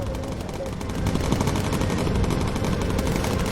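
Rapid machine gun fire with incendiary rounds in the bomber video game Bomber Crew, a dense, loud, continuous rattle that swells after the first second and keeps up to the end.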